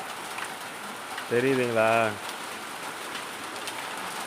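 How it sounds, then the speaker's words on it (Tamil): Steady rain pours at a house during a hot spell, a constant broadband hiss of drops on surfaces throughout, with a brief voice speaking over it near the middle. "நம்ம வீட்டில் மழை பொழந்து கட்டுது"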